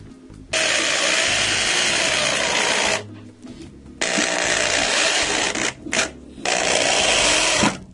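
A loud corded power drill whirs in three sustained bursts with short pauses between, revving up and cutting off abruptly, close by.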